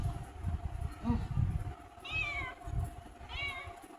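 A cat meows twice, clear rising-falling cries over low rustling and handling noise indoors, with faint murmured voices in the background.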